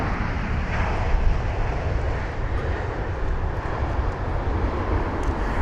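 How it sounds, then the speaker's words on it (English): Emirates Boeing 777 freighter from Dubai on approach to London Heathrow, heavily loaded, giving a steady low engine rumble and broad wash of noise, moderately distant and continuous throughout. "this is a larger Emirates 777 freighter from Dubai, probably a bit heavier"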